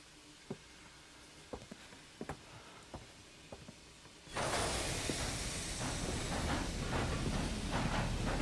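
A steam train in Red Dead Redemption 2: a few sparse clicks and knocks, then a sudden loud, steady steam hiss with rolling rail clatter underneath.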